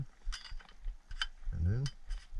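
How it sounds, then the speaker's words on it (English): The barrel of a Stevens Model 320 12-gauge pump shotgun from Savage Arms is slid back on, with a few light metallic clicks and a short scraping slide close by and no talking. "Back up to the barrel, slide that back on"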